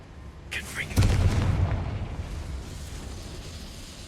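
Confringo spell explosion in Hogwarts Legacy, a sharp magical whoosh followed by a heavy, booming blast with a deep rumbling tail that slowly fades, loud and close.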